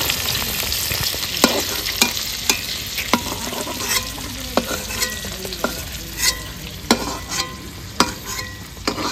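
Pointed gourd (potol) fries in hot oil with a continuous close sizzle, and a spatula stirs it, producing sharp regular scrapes and clacks roughly every second throughout.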